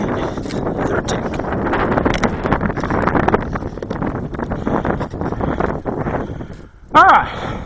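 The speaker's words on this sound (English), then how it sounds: "Winds are still blowing pretty hard." Strong wind gusting at an RC flying field, a steady roar buffeting the microphone with a brief louder whoosh near the end; a voice talks over it.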